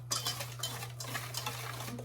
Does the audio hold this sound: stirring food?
yes